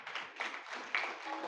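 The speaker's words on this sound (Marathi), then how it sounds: "टाळ्या वाजवा, टाळ्या वाजवा." A crowd at a religious discourse on the Shiv Mahapuran claps, heard as faint, somewhat distant rhythmic hand clapping in soft bursts with no talking over it.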